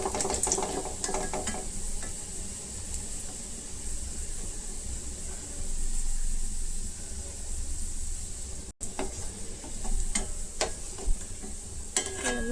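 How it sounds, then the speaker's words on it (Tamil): Mutton kofta frying in hot oil until golden, giving a steady close sizzling hiss broken by light scraping and clinks of a utensil in the pan, with no talking. "எல்லா கோஃப்தாவும் நல்லா பொன்னிறமாக வறுத்து எடுத்தாச்சு"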